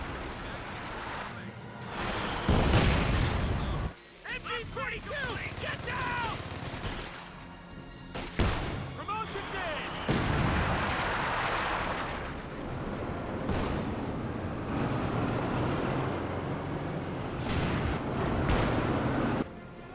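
In Company of Heroes 2, MG42 machine-gun bursts mix with artillery blasts and explosions in a dense, loud battle soundscape, with game voice lines heard amid the firing.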